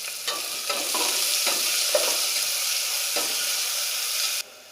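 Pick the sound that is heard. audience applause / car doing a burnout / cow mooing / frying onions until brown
frying onions until brown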